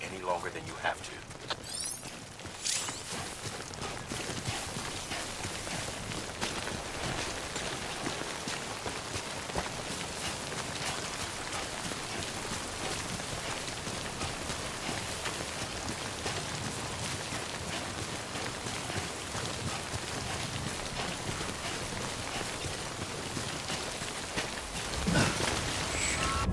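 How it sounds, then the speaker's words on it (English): Timefall rain falls steadily in Death Stranding, a dense, even hiss of drops pattering on surfaces that carries on unbroken, with a voice speaking over it. "Timefall damages cargo containers. Don't stay out in the rain any longer than you have to."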